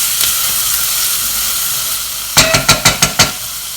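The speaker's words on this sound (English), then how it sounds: "Now it says add the garlic and fry for another minute." Vegetables and garlic frying in a pan for minestrone soup, a steady bright sizzle with a quick run of about six sharp clatters, like a spoon stirring against the pan, near the end.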